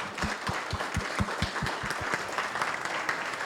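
Applause at a meeting of retirees and pensioners, with a few distinct nearby claps standing out over a softer, scattered wash of clapping from the room.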